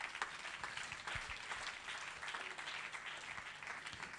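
A church congregation applauds during a sermon, a soft, steady patter of many hands clapping at a distance, fairly faint throughout.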